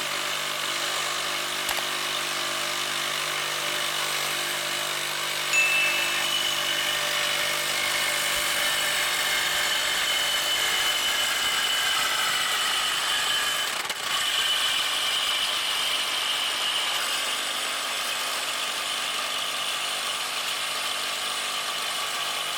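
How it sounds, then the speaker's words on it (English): A Dewalt Flexvolt reciprocating saw cuts through a metal tube a little under 1/4 inch thick, giving a steady, loud, continuous high-pitched rasping buzz that holds unbroken for the whole stretch, with no talking. "So we got this tube right here. We're going to cut through."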